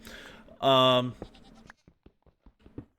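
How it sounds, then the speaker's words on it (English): A single loud, close goat bleat from a Minecraft game, followed by small scattered clicks and bits of quieter game sound. "And I'm hearing goats. We actually have goats up here."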